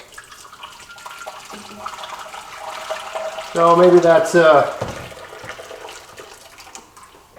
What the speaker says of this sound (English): I'm gonna fill this pan as full as I can get it.